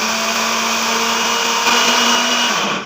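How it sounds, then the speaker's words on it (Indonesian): Electric blender running steadily on pumpkin with granulated sugar and medium-thick coconut milk, a loud continuous motor whir with a steady hum, then winding down at the end. "Ini kita blender."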